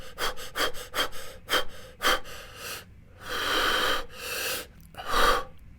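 A person demonstrates quick, controlled breathing for meditation practice: a rapid series of sharp, close breaths in and out, followed by a few longer, slower inhales and exhales, with no talking.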